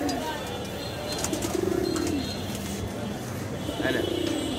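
Palla-line pigeons at a pigeon farm in Lalbagh give two soft, rolling coo phrases close by, over a steady hum of farm noise.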